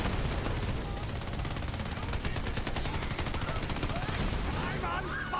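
Sustained rapid gunfire from a sci-fi tabletop-style game, Rogue Trader, with dense continuous bursts resembling machine-gun fire throughout, loud and steady with a faint voice underneath.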